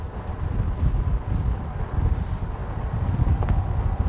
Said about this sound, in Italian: Sta rinforzando il vento, è veramente fortissimo.